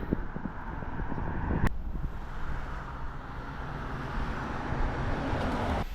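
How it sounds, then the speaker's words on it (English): Gusty wind buffets the microphone with a constant rough roar on a roadside shoulder, with a sharp knock partway through and low road rumble underneath. "And it's pretty windy"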